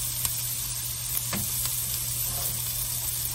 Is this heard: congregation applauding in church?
no